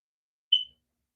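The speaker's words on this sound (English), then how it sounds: "do you be hearing the smoke detector chirping?" A single short high-pitched chirp from a household smoke detector with a low battery, one brief clean tone in otherwise silent surroundings.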